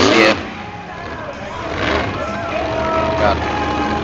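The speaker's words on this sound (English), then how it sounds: "3 trucks at the same time doing stoppies for a little bit." Three monster trucks perform stoppies together at a Fowlerville monster truck show, their engines revving and roaring at a distance beneath loud crowd and commentary talk.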